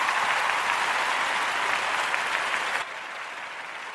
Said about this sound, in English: I think we should have a great big cheer for Charlie because he's enjoying himself